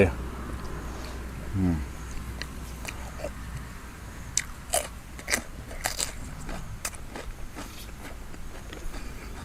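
Someone eating raw beef larb (koi), with close crunchy bites and moist chewing in a quick series of sharp clicks, a voice talking over parts of it.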